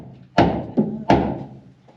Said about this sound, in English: This is how loud you're going to hear each blast.